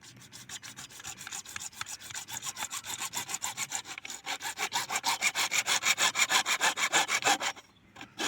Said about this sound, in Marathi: आरिपांच्या साह्याने करवतीच्या साह्याने तोडू कापून घेऊया